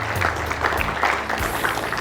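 Audience applause at a 9th anniversary gala celebration and product launch, a dense, steady patter of many hands clapping together for about two seconds, fairly close and unbroken.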